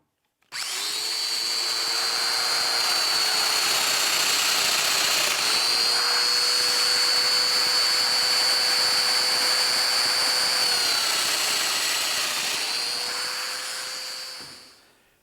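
A domino joiner cuts a mortise into a cabinet panel, its motor whining up, holding a steady high-pitched drone for about thirteen seconds with small pitch dips as it plunges, then winding down.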